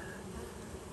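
Honey bees in a beehive during a late summer inspection, a thick continuous buzzing hum, close and even throughout a single second.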